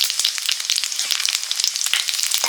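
Cumin, dried red chillies and whole garam masala fry in hot oil for a chicken curry, giving a steady, loud, dense sizzle with rapid crackles and pops throughout.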